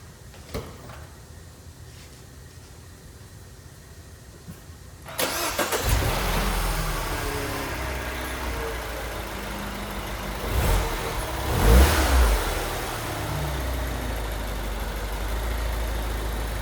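A Toyota 4Runner with heavy frame damage cranks over near the microphone, catches and starts, then settles into a loud idle with a couple of revs swelling and fading, with no talk.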